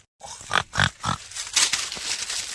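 A voice imitates a pig, giving three loud grunting bursts in a row followed by rougher, snorting oinks, close to the listener.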